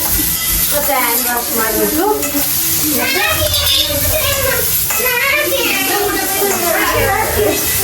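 Green chillies, cut lengthwise, hit hot oil in a pan and sizzle steadily with stirring scrapes, constant and close, while a voice talks over the frying.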